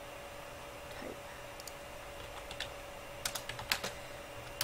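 Quick keystrokes on a computer keyboard while entering a slash command in EverQuest 2, starting as sparse clicks and then speeding into a short clustered burst of close, crisp taps over a quiet hum.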